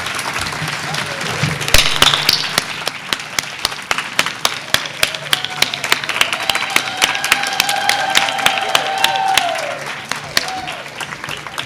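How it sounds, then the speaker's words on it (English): Audience applause for the Teachers of the Year winners and runners-up at an award ceremony, steady dense clapping with sharp individual claps standing out, with voices and murmur mixed in throughout. "let's give them all another round of applause"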